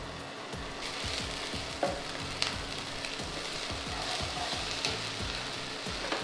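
Ginger garlic paste fries in hot oil for a khichdi with a steady, close crackling sizzle. Irregular pops and scraping stirs run throughout, with no voices.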